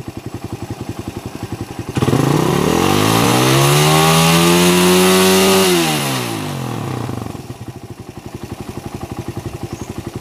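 A motorcycle engine idles with a rapid putter, then is revved hard and held at a high whine for several seconds before sinking back to idle. The bike is on a bench for a battery charging test with an electrolytic capacitor fitted.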